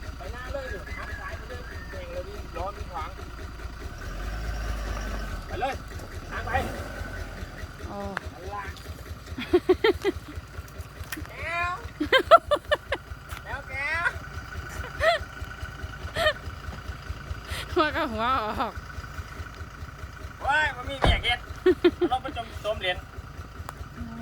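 A small tractor engine rumbles low and steady as it tows a larger vehicle, with people shouting and talking over it.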